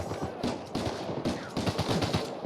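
Rapid bursts of gunfire in Uncharted 4 crackle in quick, uneven volleys, dense and close with brief pauses between clusters of shots.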